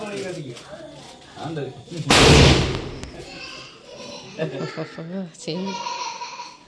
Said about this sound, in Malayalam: പടക്കം പൊട്ടിക്കണ തിരക്കിലാണ്